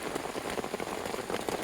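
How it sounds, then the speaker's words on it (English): Steady rain falling on a campsite in a canyon during an overnight backpacking trip, a dense, even patter of drops hitting surfaces nearby, continuous and soft without any voices. "As you can hear, it's still raining steady at a clip."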